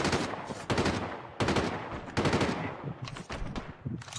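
Rapid automatic gunfire in a multiplayer shooter video game, loud and close bursts of machine-gun fire separated by brief pauses, continuing throughout with no talk.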